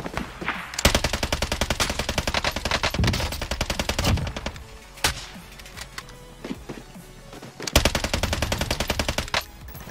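A Type 100 submachine gun in a video game fires several long, rapid bursts of sharp, evenly spaced shots, broken by short pauses and a few heavy thuds, loud and close throughout.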